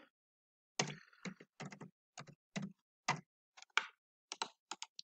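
Fingers type a print statement on a computer keyboard in quick, irregular bursts of close, crisp key clicks separated by short pauses, with no talking.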